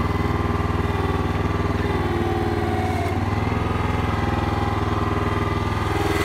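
Digger engine running steadily close by, a loud, even, throbbing mechanical chug with a faint dip partway through and no speech.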